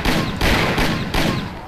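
Three quick, loud gunshots from the Mafia video game, evenly spaced and punchy, each with a short echoing tail, and no voices over them.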